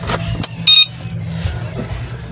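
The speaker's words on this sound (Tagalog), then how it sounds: "Bali test drive natin mga ka-e-bike kung ano, kung itong ating e-bike ay may pagbabago doon sa kanyang tunog." Electric bike motor on a test drive, a low steady hum with brief clicks and a short whine, close and moderately loud, no talking.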